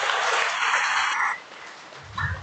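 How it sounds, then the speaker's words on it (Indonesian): Audience applause at a combined staff assembly in Bekasi, a dense broadband wash of clapping that holds steady, then drops away after about a second and a half to a faint murmur. "Tepuk tangan bagi ini."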